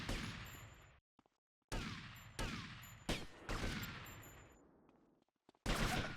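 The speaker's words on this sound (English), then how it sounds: "Shit's blowing up above me, and Tommy's just like, been chilling. People are shooting him in the back." Bursts of video game gunfire and explosions from GTA Vice City with a winter mod, loud and close, come in several sharp volleys separated by short gaps.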